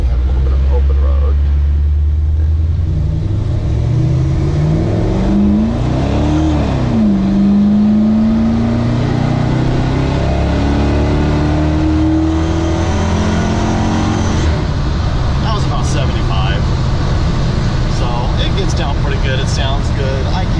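A 1965 Chevy C10 pickup cruises an open road with a loud, close engine drone. The revs sweep upward and then settle back to a steady rumble, with road and wind noise throughout.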